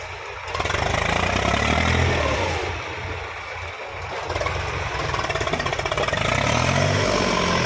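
A New Holland 3630 tractor hauling a fully loaded trolley, its engine chugging steadily and loudly up close with rhythmic mid-range throb and faint surging as the load pulls.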